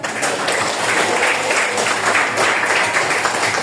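A classroom of students applauds a classmate, dense steady clapping of many hands that holds at an even level for a few seconds without a break.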